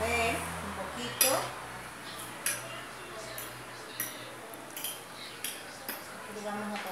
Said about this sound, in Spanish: Esto vamos a revolver un poquito.